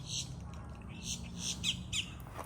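Outdoors on a tropical fruit farm, a bird gives several sharp, fairly close squawks and chirps over a low background rumble.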